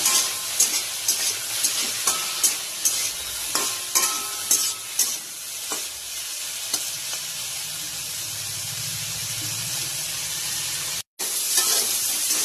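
Fennel seeds and whole cumin fry in hot oil, a close, steady sizzle broken by repeated sharp stirring scrapes and clinks in a loose rhythm, then a smoother hiss, with a brief dropout near the end.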